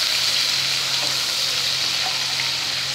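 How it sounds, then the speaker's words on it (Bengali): Chopped onions frying in hot oil with black cumin (kalonji) in a pan, a loud, steady close-up hiss and crackle that holds evenly throughout, with no voice. "পেঁয়াজটাকে একটু লাল লাল করে ভাজতে হবে।"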